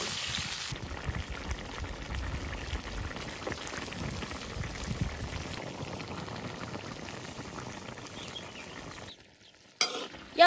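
Beef brisket stew in a pot, with tomatoes and carrots just added, bubbles and simmers in a soft, steady, close hiss. Near the end it drops almost silent before a brief clatter.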